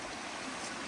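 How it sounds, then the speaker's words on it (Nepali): Water of a forest stream flowing on a hike, a brief, steady, soft rushing wash with no other sounds. "ल पानी यस्तो छ"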